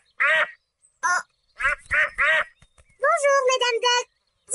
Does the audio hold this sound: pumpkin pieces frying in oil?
no